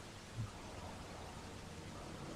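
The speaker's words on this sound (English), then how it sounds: "And now rain is back." Steady, faint hiss of rain falling during a Formula 1 race in the F1 23 video game, an even wash of noise with no other clear sounds.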